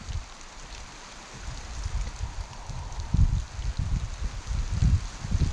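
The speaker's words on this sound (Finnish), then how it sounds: "Ei täällä edes vesisade haittaa." Steady rain falling outdoors in Finnish Lapland, near Rovaniemi and Inari, with a continuous hiss of drops and soft low gusts of wind buffeting the microphone, moderately loud and close.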